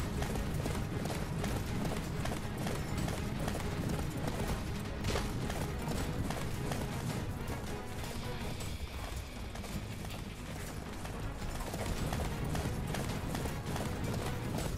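Rapid rhythmic hoofbeats of a horse galloping in the Attack on Titan video game on PS4, a continuous clip-clop that runs the whole way through with a steady game soundscape beneath it.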